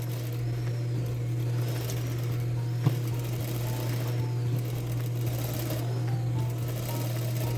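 A sewing machine stitches a double seam on men's jeans, running as a steady, even mechanical hum with a fast needle rhythm throughout, close and continuous with one small clack partway through.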